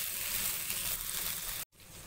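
Chicken pieces browned golden in a pan with white cumin added, sizzling loudly and continuously up close, with a brief sharp cut near the end before the frying hiss resumes.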